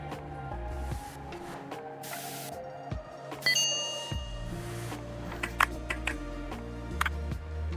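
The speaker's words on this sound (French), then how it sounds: "C'est rapide avec la bombe à air" Bursts of compressed air from a can duster spray over a game console during cleaning in a Tokyo repair shop, short hissing blasts among clicks, light taps and a faint ding.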